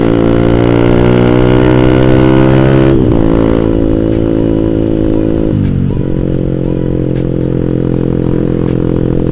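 A Yamaha Mio scooter engine revs loud and steady during a clutch test, its pitch dropping in two clear steps as the throttle eases, with a continuous close mechanical drone throughout.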